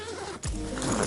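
A backpack zipper is pulled in one quick, close rasping stroke, heard alone.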